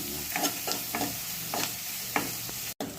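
Onions frying with turmeric and a little salt in a pan, with a steady sizzle and several scraping spoon strokes at an unhurried pace, close but moderately quiet and ending in a brief cut.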